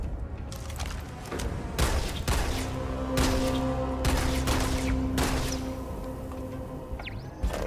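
Gunfire in a first-person shooter video game, rapid bursts of shots cracking loudly against a busy background of game effects and a steady humming tone, continuing throughout.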